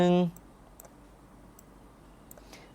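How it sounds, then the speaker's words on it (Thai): A brief voice gives way to a few sparse, light clicks as "+1" is typed on a computer keyboard while building a Scratch 3 game, each keystroke faint and isolated against a quiet background. "ผมจะใส่ตัวอักษรนะครับ ลงไปแล้วก็ พิมพ์คำว่าบวก1นะครับ"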